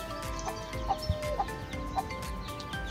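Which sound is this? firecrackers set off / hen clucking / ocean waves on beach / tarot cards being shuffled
hen clucking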